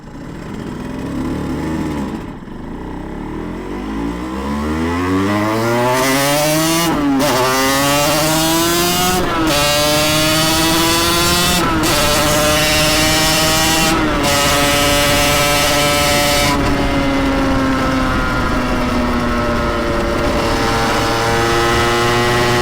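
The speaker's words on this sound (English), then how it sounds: "Oh, it's idling." Yamaha TZR 250 3XV two-stroke motorcycle, freshly rebuilt, settling into a steady idle after revving, its engine note sliding down and leveling off; loud, close and continuous, with brief blips and no talking.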